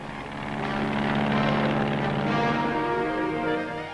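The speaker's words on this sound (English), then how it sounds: "pilotless planes rehearse their part in the operation. Guided by radio, 4 of them will fly through the billowing masses of smoke" Radio-guided pilotless planes flying in rehearsal for a 1946 atomic bomb test at Bikini Atoll, their propeller engines droning steadily, swelling slightly louder mid-way then easing, with no speech.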